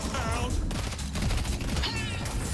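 Rapid gunfire from the video game Deadlock crackles in dense, loud bursts throughout, layered with game sound effects and busy music.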